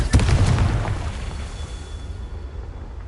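Confringo spell detonating in Hogwarts Legacy: a loud, close fiery blast with a deep boom at the start, then a rumbling tail that fades over a few seconds.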